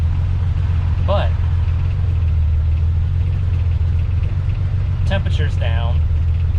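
Chevrolet S10 Blazer engine idling roughly with its throttle held slightly open: a close, steady low rumble persists throughout, with brief bits of speech over it.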